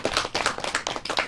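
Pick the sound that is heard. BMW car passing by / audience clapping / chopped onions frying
audience clapping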